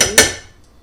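A tablespoon of cornstarch for a strawberry pie, heard as two quick, sharp metallic taps against a bowl in close succession, each ringing briefly before fading.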